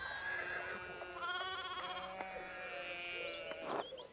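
Sheep bleat in the video game Pentiment, several overlapping wavering bleats from a flock, moderately loud and continuous over faint rural background ambience.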